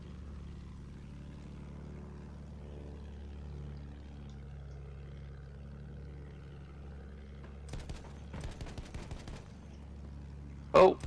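Gunfire in the World War I shooter Battlefield 1: a few scattered bursts of sharp cracks, then one loud close shot near the end, over a steady low engine-like drone.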